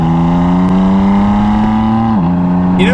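A damaged standard exhaust on a wrecked BMW M4 drones loud and close at a steady rev, the pitch dipping briefly before a short crackle near the end.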